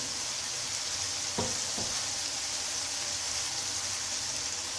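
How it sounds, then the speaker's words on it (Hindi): Browned chicken pieces frying in a pan give off a steady, close, dense sizzle, broken by two short thuds of stirring partway through. "इसको 4 से 5 मिनट जो है वो फ्राई करेंगे। चिकन जो है ब्राउन हो चुका है"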